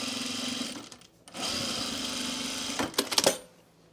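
A sewing machine edge stitching a seam on a blazer, running in a steady mechanical whir that pauses briefly, resumes, then ends with a few sharp clicks, close and alone.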